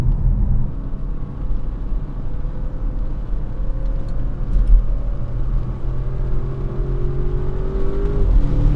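Audi RS6 Avant V8 engine pulling hard under acceleration, a loud, steady low rumble with a rising harmonic whine toward the end, heard from inside the car with no talking.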